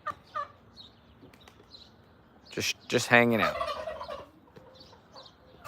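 Turkeys gobble and chickens cluck outdoors near a bird feeder stocked with black oil sunflower seeds, a loud burst of gobbling in the middle between quieter clucks, with a brief spoken remark nearby.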